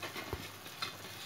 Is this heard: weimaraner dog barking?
no